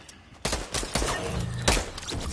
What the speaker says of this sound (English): Oh, this idiot was shooting me!